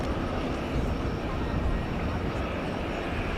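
An Alaska Airlines Boeing 737 departs DFW for Seattle on an evening flight, a continuous dense engine roar filling the scene at steady loudness while a voice talks over it.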